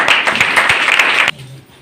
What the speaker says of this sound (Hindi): एक बार प्रीति के लिए जोरदार तालियां।